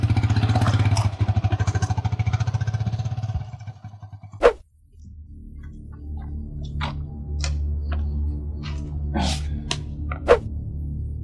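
A motorcycle engine idling nearby with a rapid, even putter that cuts out partway, followed by quieter running and scattered clicks and clatters, with no talk over it.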